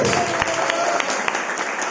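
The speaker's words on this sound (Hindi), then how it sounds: "समझ में आने वाला ताली बजाओ जोर से।" Loud clapping from a church congregation during a Hindi sermon, a dense burst of many hands with distinct sharp claps standing out, filling the whole moment without talk.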